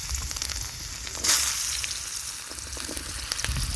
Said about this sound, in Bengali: কড়াইতে দেখুন কিছুটা সর্ষের তেল দিয়েছি। এবার আলুগুলো ভেজে নেব